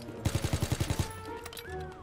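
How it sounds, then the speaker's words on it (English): A rapid burst of about nine automatic gunshots fires in quick, even rhythm, close and loud, as a player shoots at toy soldiers in a Call of Duty WWII Days of Summer multiplayer match, followed by fainter game sounds and quiet murmuring. "we're just shooting all these toy soldiers"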